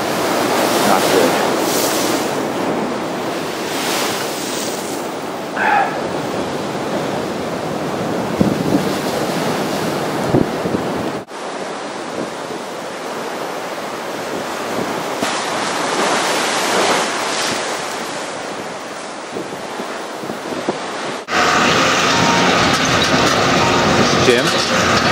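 Ocean waves surge through a breached seawall at Scituate during the 2010 blizzard: a steady roar of surf beneath heavy wind buffeting the microphone, with surges swelling and easing over the whole stretch.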